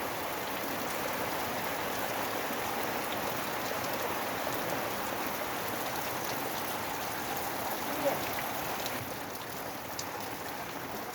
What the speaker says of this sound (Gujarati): ધીમી ધીમી ધારે અત્યારે હજી ચાલુ જ છે વરસાદ